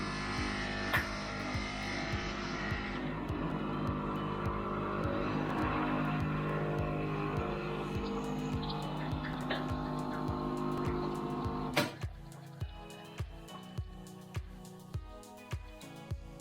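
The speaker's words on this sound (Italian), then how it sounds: "Andiamo a mettere una capsula di caffè, in questo caso ho preso una Lollo, e le andremo a erogare con la tacchetta minima" Dolce Gusto coffee machine dispensing a single espresso from a capsule on the lowest setting, a loud steady pump whir and hiss lasting about twelve seconds, then stopping into rhythmic clicks and drips.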